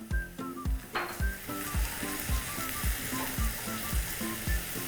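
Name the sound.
peas and chopped sage sizzling in a frying pan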